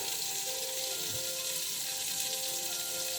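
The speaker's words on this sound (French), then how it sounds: "Laisse mijoter notre très belle recette à manger." Sausages and cabbage simmering in olive oil in a pan, giving a soft, continuous, even hiss of gentle frying, fairly quiet and unbroken, with no voices.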